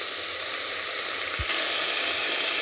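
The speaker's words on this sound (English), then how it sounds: "Now it is sauteing with the leek, garlic, and onion" Frozen peas sauté with leek, garlic and onion in a casserole for pea and leek soup, a loud, steady close sizzle and hiss that runs unbroken with no voices.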